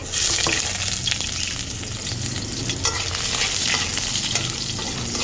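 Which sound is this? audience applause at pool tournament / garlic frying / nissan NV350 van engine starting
garlic frying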